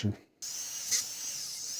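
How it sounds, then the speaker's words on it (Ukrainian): A steady whining drill-like tool runs while a Gemsy FN-2 overlock sewing machine is being adjusted, starting after a brief pause and continuing at an even level with one short louder peak. "Так, пиляю далі."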